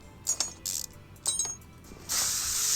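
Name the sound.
WD-40 spray on car parts, from video game Car Mechanic Simulator 2021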